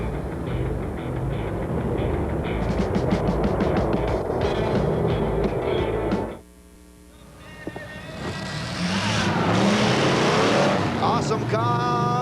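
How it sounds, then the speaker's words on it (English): Monster trucks racing at a 1987 USHRA event in Anaheim, California, one powered by a V12 Allison aircraft engine and one by a big block Chevrolet, roaring loudly, dropping out briefly, then surging back with rising engine sweeps. "Awesome Kong with a V12 Allison aircraft engine, and Monster Mash with a big block Chevrolet"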